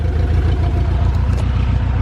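Honda B18C1 engine idling with a misfire, a steady low rumble with slightly uneven pulses, close and loud throughout with no talking.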